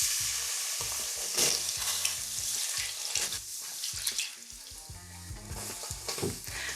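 Milk poured into a pot of melted sugar while being stirred, a sizzling, watery hiss with rhythmic scraping and sloshing of the spoon, close and steady.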